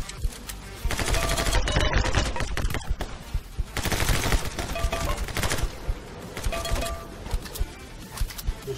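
Rapid bursts of gunfire from the action video game My Friend Pedro, loud clustered volleys in several waves with short gaps between them.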